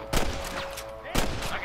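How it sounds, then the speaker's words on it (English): Two sharp gunshot bursts in the video game Red Dead Redemption ring out about a second apart, each followed by echoing reverberation, with a faint steady electronic tone beneath. "I can hear more gunshots."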